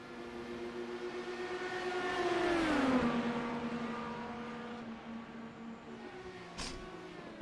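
Race car engines at Road America in the iRacing sim howl at high revs, the pitch sweeping down as a car passes near the Moran sweep into turn 5, with steady engine drone and a sharp burst at the end.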